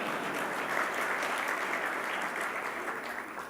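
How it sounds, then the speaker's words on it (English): Audience at a community awards ceremony claps in a sustained, even burst of applause, fairly full and steady, tapering slightly at the end. "You can clap as I pause."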